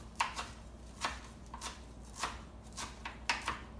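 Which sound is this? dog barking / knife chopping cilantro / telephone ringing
knife chopping cilantro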